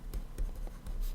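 Characters are written by hand, heard as quiet, close pen strokes on paper scratching in short repeated bursts with no voices.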